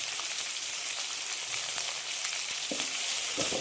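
Sliced onions, green chillies and curry leaves sauté in hot oil in a pan for a vegetable kurma, a steady close sizzle and crackle with a few soft stirring knocks near the end.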